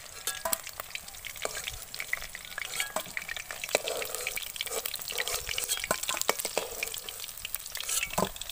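Fish fries in oil in a pan, producing a continuous close crackling sizzle with frequent sharp spits and pops, along with occasional stirring noises and no talking.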